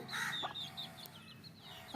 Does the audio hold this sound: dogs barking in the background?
no